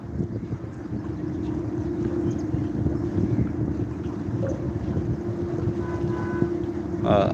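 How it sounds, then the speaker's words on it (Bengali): A large ro-ro ferry arrives at Daulatdia ferry ghat, a steady low engine rumble and hum mixed with wind buffeting the microphone and water wash, continuous and fairly loud. "দলদিয়া ঘাটে আসছে এগুলো রোরো ফেরি অর্থাৎ বড় ফেরি বলে থাকি আমরা"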